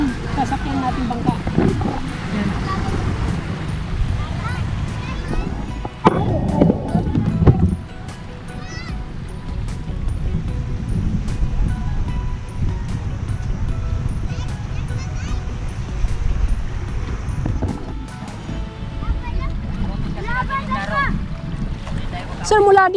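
A bangka boat rides over waves off a Philippine island, with a steady broad rumble of engine, wind and water running throughout and voices faintly present.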